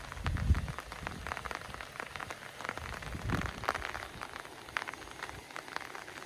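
Rain falls steadily on a grassy yard, a dense patter of drops on wet surfaces with a few heavier low thumps, moderately close and continuous without talk.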